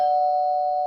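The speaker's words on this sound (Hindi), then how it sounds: "घंटी की आवाज नहीं सुनाई पड़ रही?" A doorbell sounding a single sustained electronic tone, clear and steady for about a second, alone with no other sound.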